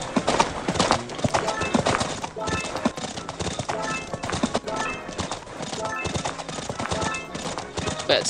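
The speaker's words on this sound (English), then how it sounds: "Still a nice race, even though the horse is slow." Horses gallop in a video game horse race, with dense rapid hoofbeat clip-clops, occasional whinnies and game music or effects running steadily throughout at close, loud level.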